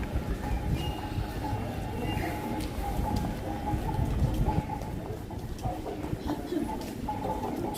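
Pigeons coo softly on a drizzly street in Japan, their low murmuring calls mixed into busy outdoor background noise and the sounds of people about.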